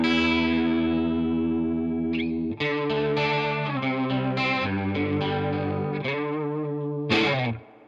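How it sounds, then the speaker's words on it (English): Guitar run through a Keeley Halo delay pedal preset giving a swirling chorus-like rotary effect, chords and plucked notes shimmering and wavering, played alone and close. "It sounds like a chorus pedal trying to do a rotary sound."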